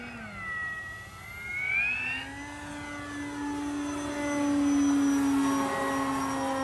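An FMS 1700mm PA-18 Super Cub RC airplane passes through a 4-point roll, its electric motor whining steadily and rising in pitch as it approaches and flies by, fairly loud with no talk.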